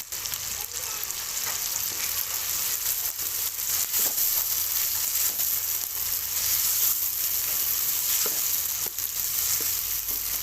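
Minced meat and finely chopped potatoes frying in a pan, a continuous crackling sizzle with occasional stirring clicks, steady and close.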